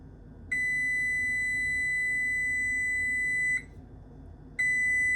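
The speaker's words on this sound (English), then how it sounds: "the timer's about to ring in 3" Kitchen timer going off while English muffin pizzas bake, a steady high electronic tone held for about three seconds, then a pause and a second long tone, loud and close.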